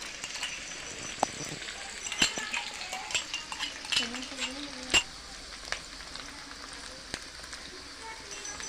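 Duck curry spices such as meat masala, ginger, garlic, bhut jolokia chili and garam masala frying in oil with a steady soft sizzle, broken by clinks and scrapes of a stirring utensil against the pan.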